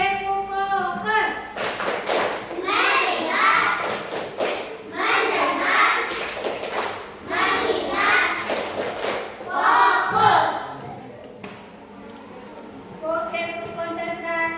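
Classroom of children doing a rhythmic clapping chant led by a teacher, bursts of clapping and chanted voices repeating in short cycles, close and fairly loud, with talking in between.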